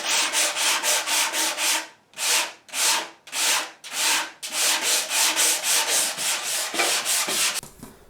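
Sandpaper rubbing back and forth over the wooden top of an ES 335 guitar body, in steady rasping strokes that briefly slow to a few longer, separate passes midway before going quick again, close up with no talking.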